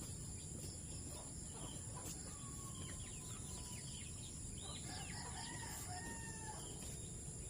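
Backyard chickens cluck and a rooster crows at a distance over steady outdoor background noise, with faint insects or birds chirping throughout.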